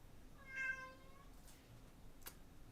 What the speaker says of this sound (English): That's your kitty.